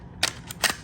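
CO2-powered paintball marker with twin 12g cylinders in the buttstock firing a T15 round, two sharp close pops about half a second apart against a quiet background.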